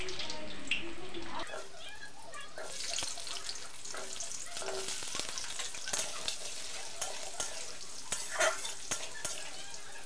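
Potatoes hit hot oil tempered with whole spices in a home kitchen, giving a continuous sizzle with stirring scrapes and clinks that carries on across the whole stretch.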